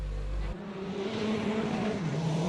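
A WRC rally car from the 2005 season drives at speed with a steady, loud engine roar that holds its pitch after a brief low rumble at the start, no voices over it.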